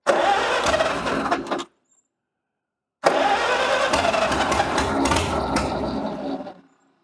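A barn-find Farmall H tractor with a freshly rebuilt carburettor runs loud and close, a rough steady engine drone that cuts out briefly, then resumes before dying away.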